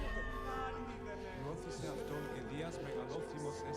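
A cat in the game Assassin's Creed Origins meows repeatedly in a series of wavering, drawn-out cries set against a soft ambient game soundscape, with someone talking over part of it.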